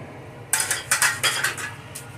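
Sautéed tomato, onion and garlic tipped into a steel grinder jar, giving a quick run of sharp metallic clinks and taps as a spoon scrapes against the jar, close and clear after a brief quiet start.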